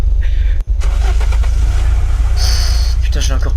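Heavy engine of a tank in the video game Unturned, rumbling loud and steady while pushing a car, with revving swells and a brief cutout early on.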